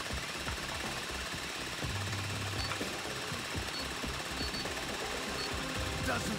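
A drill in the heist game Payday 3 runs with a continuous loud mechanical grinding and rattling throughout, with a voice talking faintly in the background.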